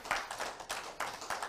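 A church congregation clapping hands to the Lord during a service, faint and somewhat distant, with a loose, uneven rhythm of handclaps over a short stretch.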